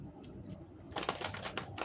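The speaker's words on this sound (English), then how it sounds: "Some told me to shuffle these cards up like 17 times." Someone shuffles a deck of cards, a few soft riffling flutters early on, then a denser burst of quick papery riffles and snaps up close, quiet overall with no talking.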